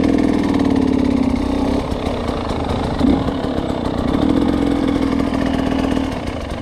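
A motorcycle engine idles on a hill with a steady, close mechanical putter, dipping briefly and picking up again before easing off toward the end.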